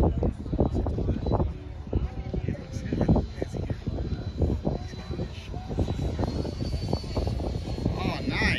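A gas-powered model airplane flies at a model aircraft competition, its engine droning steadily in the background beneath almost constant public-address talk.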